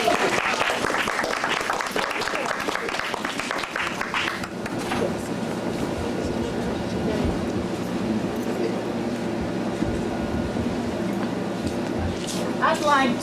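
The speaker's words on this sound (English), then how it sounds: "I'd like to give the youth another round of applause for their hard work" A crowd claps loudly in a dense burst of applause for the youth at a 1997 NCCU gathering. The clapping fades after a few seconds into a steady room hum with faint movement.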